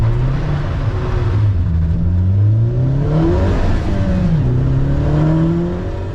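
A car pulls away from the start line on a wet sprint track at a motorsport event, its engine loud and close as it revs through rising gear pulls with brief dips between shifts, steady road noise underneath and no voices.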